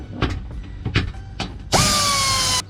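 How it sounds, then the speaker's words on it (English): A ratchet removes 8mm bolts from a Jeep Wrangler Rubicon JL front bumper, with several short clicking ratchet strokes followed by a loud, close power-tool whir lasting nearly a second. "Next, I'm removing these 8mm bolts."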